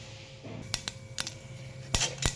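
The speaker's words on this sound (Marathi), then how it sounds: "हे बघा, इथं आपली मोहरी पण तडतडली." Mustard seeds crackle in hot oil in a kadhai: a handful of sharp, separate pops and snaps over a faint hiss, close and fairly loud.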